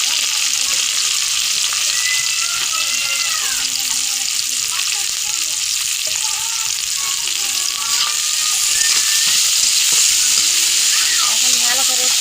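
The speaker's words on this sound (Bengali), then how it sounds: "পেঁয়াজ কুচিটা দিয়ে দিব এখন ভাজা করার জন্য" Chopped onions fry and are stirred in a pan, giving a steady, loud, dense sizzle that runs without a break. Faint scraping from the stirring comes through the hiss.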